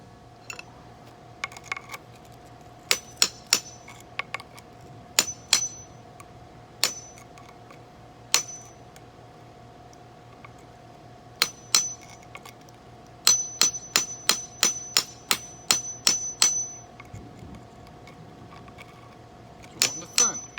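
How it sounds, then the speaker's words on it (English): Sharp metallic taps of a hammer on a chisel cleaning out brick ring out in irregular bursts, some rapid runs of strikes close by, over a steady low hum. "I'm gonna take my chisel and my hammer, and I'm going to clean this mess out"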